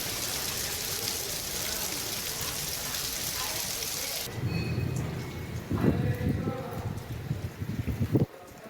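A storm rain in Bihar that felled trees and power poles pours as a steady, heavy hiss. About halfway through it gives way to a low rumble, with a voice speaking over the quieter remainder.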